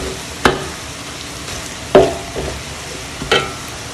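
Garlic frying in oil in a pan for crispy fried garlic, a steady low sizzle broken by three sharp scraping stir strokes spaced over a few seconds, close up, with no talk.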